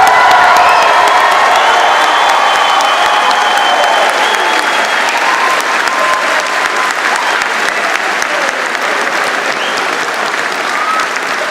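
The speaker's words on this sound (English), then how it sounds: "join me in a round of applause congratulating our graduating class of" Sustained audience applause at a university convocation ceremony for the graduating class of 2018, a dense steady wash of clapping with scattered cheers running the full length, gradually easing slightly toward the end.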